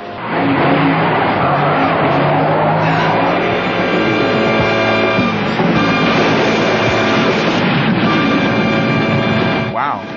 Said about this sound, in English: a tanker truck rigged to create an oil slick to send his van spinning off the road